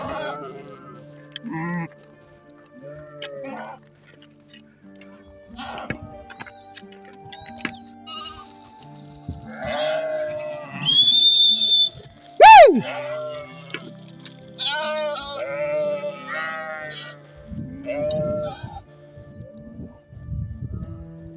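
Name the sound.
sheep bleating as the flock arrives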